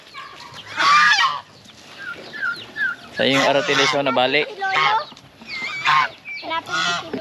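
Free-range turkeys gobble and call repeatedly nearby, their warbling cries mixed with a person speaking.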